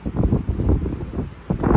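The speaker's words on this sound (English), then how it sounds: "I really hope the audio is okay because it is windy" Wind buffets the microphone outdoors at Scarborough Bluffs in a steady low roar, gusting louder near the end, with no other clear sounds.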